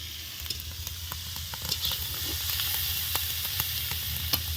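Kohlrabi and potato frying in a pan make a steady, close sizzle and hiss, with occasional light stirring scrapes on top and no talking.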